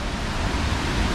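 Roar of a large waterfall in the Philippines, a dense, continuous broadband rush heard up close with nothing else standing out.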